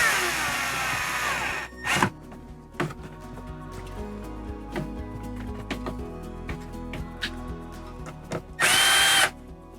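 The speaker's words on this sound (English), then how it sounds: "And then the 2 back screws can get tightened." Power drill tightening screws on an RV air conditioner, opening with a long whir, then short bursts and clicks, ending in a loud sustained whir; no talking.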